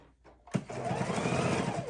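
A sewing machine runs steadily across fabric panels of a soup bowl cozy after a short quiet lead-in, a loud continuous motor whir with fast rhythmic needle pulses that holds right to the end.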